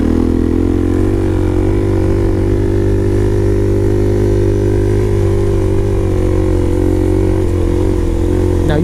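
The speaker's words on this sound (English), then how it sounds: "we're going to pop ourselves a wheelie, just to demonstrate how awesome these things are" A Suzuki DRZ400SM supermoto engine drones loud and steady at high revs throughout, a constant close buzz with only slight pitch shifts.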